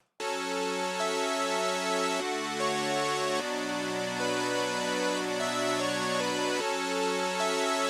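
A bright synthesizer lead plays a stepping melody of sustained notes with rich harmonics, clean and unaccompanied by voices.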